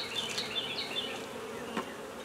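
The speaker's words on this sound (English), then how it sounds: "Bees are smart. They don't build rooms that they don't need." Bees swarm around hive frames strung with fishing line, giving a steady, close, continuous buzz with no voices.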